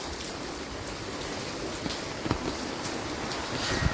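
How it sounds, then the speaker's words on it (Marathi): Dense, steady rainfall hissing across everything, with scattered heavier drops pattering close by, continuous and fairly loud, no voices. "पाऊस पण खूप आहे"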